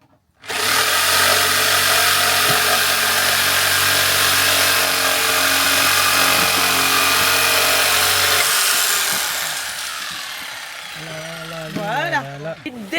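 A power tool makes the last cut through a wooden board for a family-built wooden cabin: a loud, steady high whine lasting about eight seconds, then winding down, with a voice speaking briefly after it stops.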